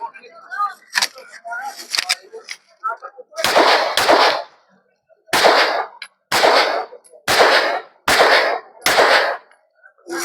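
Loud, sharp gunshots ring out one at a time with pauses between them at a firing range during marksmanship qualification, six blasts in the second half after some quieter clinks and voices.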